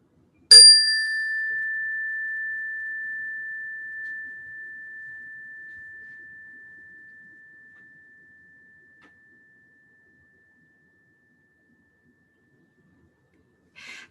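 A meditation chime closing a mindfulness practice rings out once, loud and clear, its pure tone sustaining and slowly fading over many seconds into near silence.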